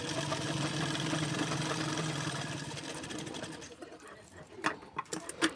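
A sewing machine stitches blouse sleeves in a steady, close whirring run that fades out, followed by a few sharp clicks and taps as the work stops.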